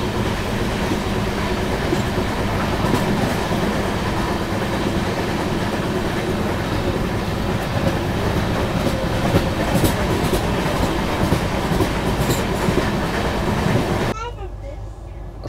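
A passenger train traveling toward Khandwa on the Jabalpur to Kopargaon route, heard from onboard as a loud, continuous rumble with rhythmic clatter of wheels on rails, steady throughout before dropping away suddenly near the end.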